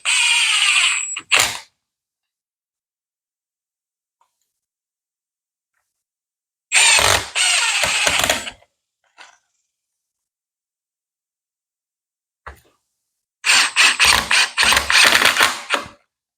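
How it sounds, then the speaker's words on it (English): A power drill drives screws fixing a pedestal to the underside of a scrap wood tabletop, three separate whirring bursts separated by silence, close and loud with a ratcheting texture. "And then I just screw the pedestal to the bottom of the tabletop."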